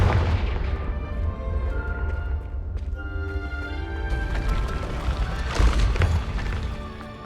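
Spell explosions and magical combat effects from the Hogwarts Legacy video game, with a fiery Confringo blast among dense booming, crashing layers that run loud throughout, no talk over them.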